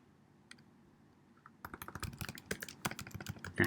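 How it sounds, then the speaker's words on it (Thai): Data being typed on a computer keyboard, a quick run of close, crisp key clicks that starts after a quiet opening with a few stray taps, then continues steadily to the end. "แล้วก็ลองพิมพ์ข้อมูลเข้าไปดูครับ"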